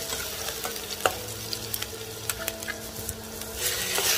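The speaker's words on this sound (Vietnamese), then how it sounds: "Dầu nóng chúng ta sẽ cho hành tím vào." Sliced shallots sizzle steadily in hot oil in a pan, a soft, continuous frying hiss with scattered pops and crackles, heard close with no talk.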